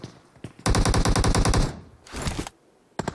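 Automatic gunfire rings out in a battle royale esports match, first a long rapid burst, then a shorter burst after a brief pause and a final quick volley, loud and close.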